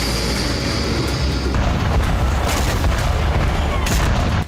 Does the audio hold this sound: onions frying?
no